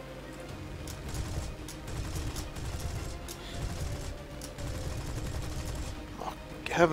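Aircraft machine guns in the War Thunder air battle with a Spitfire IIb, rattling in dense continuous bursts over steady engine drone, fairly quiet throughout with a sharper burst right at the end.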